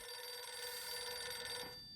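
Telephone ringing in the horror video game Silent Hill f, a steady electronic ring with clear tonal harmonics that holds for about a second and a half, then cuts off.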